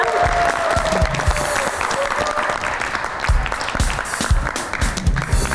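A studio audience at a Kyrgyz dating show claps in a dense, steady burst of applause that fills the room without letting up.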